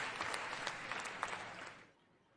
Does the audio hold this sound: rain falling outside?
no